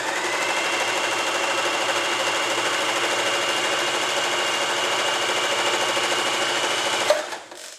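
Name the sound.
Elna 120 sewing machine sewing a zigzag stitch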